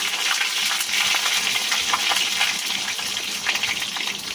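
Steady hot sizzle of soybean curry frying in oil with cumin and bay leaf, as thin liquid is poured in for a light gravy; continuous, close and loud, with faint scraping underneath.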